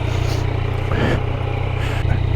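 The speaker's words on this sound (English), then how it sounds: "the stock exhaust straight off sounds pretty decent compared to the Z900" A 2020 Yamaha MT-09 motorcycle with its stock exhaust idles close by, a steady low throbbing engine drone with a slight swell partway through and no talk over it.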